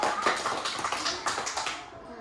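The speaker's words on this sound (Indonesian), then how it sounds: "Tepuk tangan dulu untuk Mbak Rizky." A seminar audience claps for a presenter, a scattered round of individual hand claps with distinct slaps that thins out and fades toward the end.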